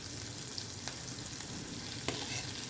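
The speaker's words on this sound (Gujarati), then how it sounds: "આપણે તેલમાં આ રીતે આદુને સાતળી લેશું. ત્યારબાદ એમાં ઝીણા કટ કરેલા લીલા મરચાં એડ કરશું" Ginger, finely chopped green chillies and curry leaves sautéing in hot oil give a steady soft sizzle, with a couple of sharp stirring clicks partway through and no talking.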